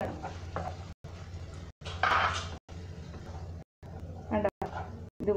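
Boiled noodles are stirred and tossed in a pan for street-style chow mein, giving bursts of scraping and sizzling broken by short gaps, with a voice talking over the cooking.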